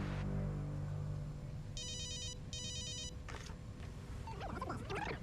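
A telephone rings in two clear, evenly spaced bursts of trilling bell tones over a low, steady background hum, followed by faint rustling.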